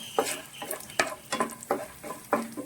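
Peanuts frying in ghee while being stirred in a pan for a tapioca-flour halwa: repeated close scraping strokes with a soft sizzle underneath, about six stirs in under three seconds, no voices.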